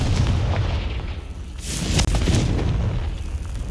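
A Confringo spell blast erupts in the Hogwarts Legacy video game, a loud booming explosion with rumbling low end that swells again mid-clip before fading, with no voices.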